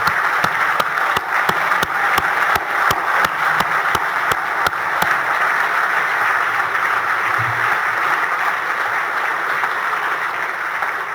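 At the Australian of the Year awards ceremony, a large audience applauds the four Young Australian of the Year nominees for Western Australia with a long, steady wash of clapping and a few sharp individual claps standing out early on.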